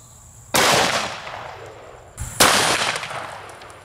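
Two loud, sharp gunshots from a Smith & Wesson Performance Center .500 Magnum revolver with a 10.5-inch barrel, firing 500-grain hard-cast rounds into pine boards about seven yards away, each blast trailing off in a long ringing decay.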